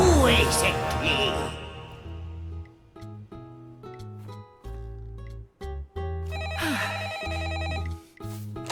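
A telephone bell rings in loud repeated bursts near the start and again later, with people talking over and between the rings in a French cartoon scene.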